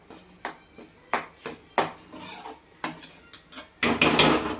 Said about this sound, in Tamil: இப்போ இந்த மசாலா வேகிறதுக்கு மூடி போட்டு வேக விட வேண்டியது தான்.